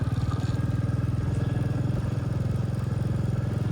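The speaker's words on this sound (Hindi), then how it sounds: "चलो जी, बाइक स्टार्ट कर लिए, निकलते हैं रूम की ओर।" A motorcycle engine runs steadily just after starting on a snowy mountain road near Sissu, a close, loud, even low throb with rapid regular pulses and no talk throughout.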